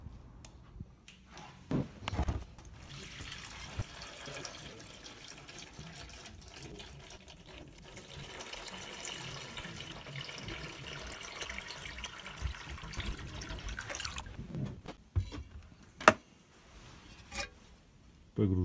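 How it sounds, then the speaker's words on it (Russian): Tap water pours steadily into a black bucket for about thirteen seconds, a close, continuous rushing splash, followed by a few sharp knocks and clunks as the flow stops. "Набираем воду."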